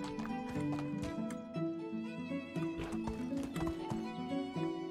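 Horse galloping in the medieval life-simulation game Medieval Dynasty, a steady clip-clop of hooves running under layered game music, with a brief neigh; the hoofbeats stay close and moderately loud throughout.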